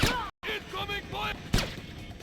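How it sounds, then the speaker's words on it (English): A few sharp, loud gunshots in the stealth game Splinter Cell: Chaos Theory, one at the start and another about midway, separated by shouting voices. "Incoming fire!"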